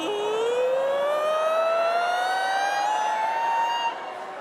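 A group of people imitating a siren with their voices, a single sustained tone sliding steadily from low to high for about four seconds before cutting off, loud and close.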